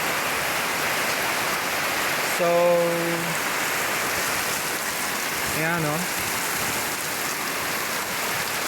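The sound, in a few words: heavy rain pouring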